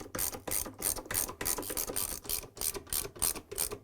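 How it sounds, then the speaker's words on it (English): A 10 mm socket wrench ratcheting bolts on a washer counterweight: a crisp, close run of clicking pawl bursts, about a dozen rhythmic strokes in quick succession. "Install the lower counterweight and secure to the 4 bolts using the 10 mm socket"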